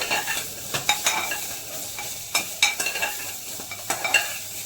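Crushed ginger and garlic hit a little oil in a cast iron kadai, crackling and sizzling while a spatula scrapes and stirs in quick bursts, close and fairly loud, no talking.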